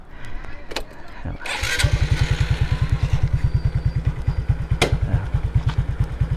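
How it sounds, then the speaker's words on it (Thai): A motorcycle engine starts up after some handling noise and settles into a loud, rapid, evenly pulsing idle close by, with a brief voice heard over it. "วันนี้มาไกลขับมอเตอร์ไซค์"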